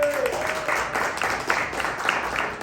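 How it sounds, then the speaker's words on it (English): An audience gives a round of applause welcoming a speaker at a business talk: dense steady clapping from a crowd throughout, fairly loud and close, with a few brighter individual claps standing out. "Let's give her a big round of applause."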